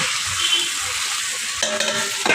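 Water poured into a pan of simmering rohu fish curry with papaya and potato sets off a loud, steady hiss and sizzle with stirring, which shifts and sharpens partway through.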